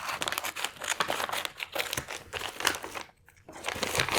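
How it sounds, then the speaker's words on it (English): Scissors cut into a padded jiffy envelope, producing dense, continuous crinkling and tearing of paper and padding, close and fairly loud, with a brief pause partway through. "I'm gonna be lazy, use a scissor to cut in."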